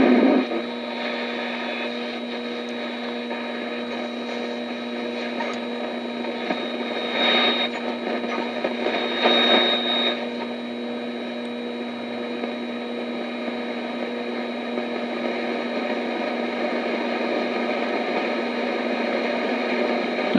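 Realtone 2208 transistor radio tuned to an AM station, giving a steady hiss and hum of static with faint broadcast tones, a couple of louder swells midway, continuous and close.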